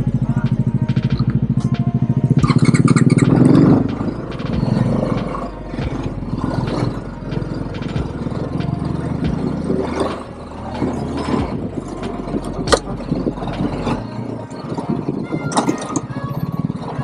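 Motorcycle on a mountain road to Kalpeshwar temple, a constant engine rumble with wind buffeting close to the rider, rough and loud at first, then steadier, with faint voices talking over it.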